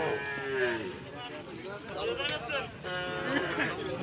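Cattle moo at a busy cattle market, several drawn-out lowing calls rising and falling close by, mixed with the chatter of people talking around them.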